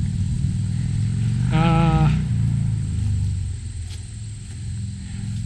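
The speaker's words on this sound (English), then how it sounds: "Neighbors firing up their motorcycle." A neighbors' motorcycle fires up outdoors beside a backyard food forest, giving a short rising rev over a steady low engine rumble that keeps idling at moderate distance.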